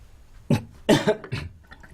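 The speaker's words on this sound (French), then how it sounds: "ce qui me fait tousser" A person coughs several times in quick succession, close by, with harsh throaty bursts and short pauses between them, after breathing NO2 gas released during a chemistry experiment.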